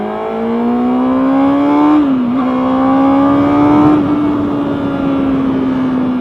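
A 2011 Honda CBR600RR sportbike engine drones steadily at high revs while riding, its pitch holding nearly level with a brief dip around two seconds, loud and continuous with no talk.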